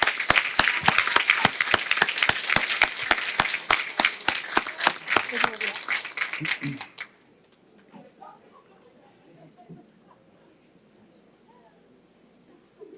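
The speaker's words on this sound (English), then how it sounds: "Can we have a round of applause for our 2024 Colleen and her court?" Audience applause at the 2024 Chicopee Colleen Coronation Ball, honoring the Colleen and her court: a brisk, fairly close round of clapping with distinct rhythmic claps, ending abruptly after about seven seconds, then faint room murmur.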